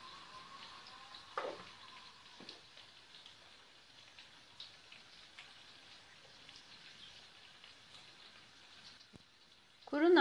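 Spices for red lentil soup fry in oil in a pan, a faint, crackly sizzle with scattered pops and a few louder clatters of stirring, sounding close but quiet.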